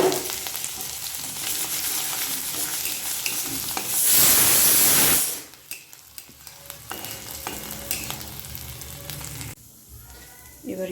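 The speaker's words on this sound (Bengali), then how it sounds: "সবজির মতো আমি এঁচোড়টাকে কষিয়ে নেব ভালো করে" Jackfruit and ginger frying in a pan, a close crackling sizzle with stirring that flares into a loud burst of hissing midway, then drops to a softer simmer with scraping.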